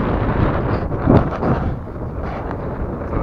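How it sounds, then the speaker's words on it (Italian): Wind buffeting a microphone on a bike path, a continuous low rumbling roar with a stronger gust around the middle, no voices. "oggi c'è un po' di vento come potete vedere"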